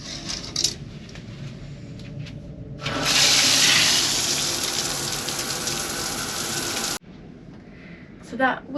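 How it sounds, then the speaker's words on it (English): A small shower aboard a sailboat suddenly gushes on, a loud steady spray that continues for several seconds before cutting off abruptly, with quieter sounds before and after. "So that was the shower in action."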